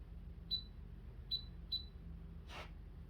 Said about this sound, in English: when you get that beep, it's saying the weight needs to go at top dead center